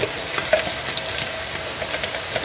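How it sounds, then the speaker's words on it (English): Ingredients for an okra seafood dish frying in a pan make a close, steady sizzle broken by a few soft clicks and pops, with no voices. "we'll allow this to fry until it's translucent"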